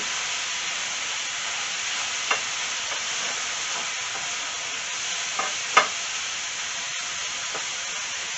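Thin minute steaks fry in a pan with a steady, even sizzle throughout, broken by a few faint clicks and one sharper tap near the end.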